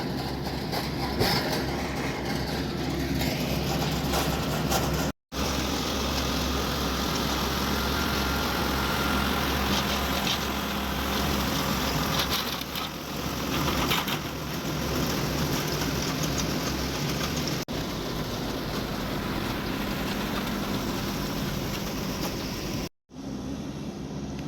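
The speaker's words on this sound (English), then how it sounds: "the first tractor is on its way home" Tractor engines run during verti-draining of football pitches, a steady, loud mechanical drone with low rumbling throughout, continuous for about 25 seconds apart from two very brief dropouts.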